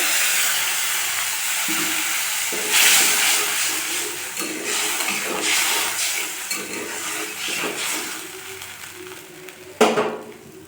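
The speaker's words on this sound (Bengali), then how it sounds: "ঝোল ফুটে গেছে" Fish curry gravy boiling in a pan on a Bengali kitchen stove, a steady bubbling hiss with soft stirring and a sharp clatter near the end.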